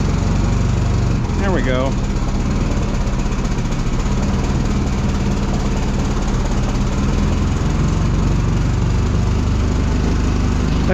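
Small engine of a mini skid steer running steadily up close, a loud continuous rumble throughout with a brief tonal whine near the start; a person speaks briefly over it.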